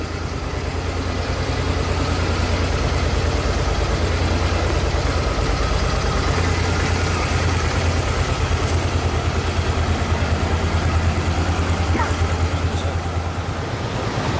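A warmed-up Intruder motorcycle engine idles steadily nearby, a continuous low, throbbing rumble that stays even throughout.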